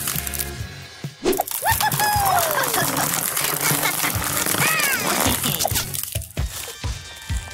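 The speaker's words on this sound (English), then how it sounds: "Oh, now popping comes with a little crunch." Buttons being popped with a crunch in an ASMR craft: dense, loud, close crackling and squishing throughout, with brief squeaky pops and clicks and no talk over it.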